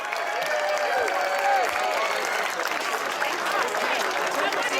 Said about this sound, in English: How about one more round of applause for the Miracosta High School Marching Band and Color Guard.